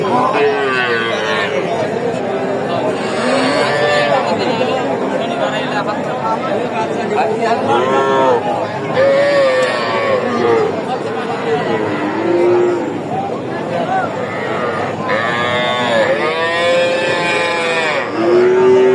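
A busy cattle market at Raniganj haat in Ghoraghat, Dinajpur, crowded with Sahiwal bull calves, where animal calls and bellows rise repeatedly over constant crowd chatter and nearby voices.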